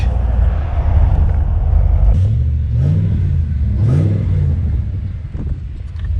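A 5-litre HSV VP Senator V8 drives past close by with a deep, loud rumble, rising through several throttle blips and gear changes.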